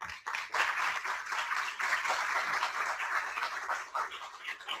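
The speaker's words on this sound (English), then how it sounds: "They deserve a round of applause too." A conference audience applauds in a room, a steady wash of many hands clapping for nearly five seconds at moderate distance, tapering slightly at the end.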